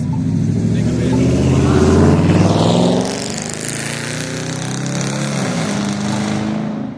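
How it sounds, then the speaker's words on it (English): A loud car engine roars close by with a revving, rising drone that eases off halfway through as the car moves along, while someone talks over it. "I know you hear that loud ass car"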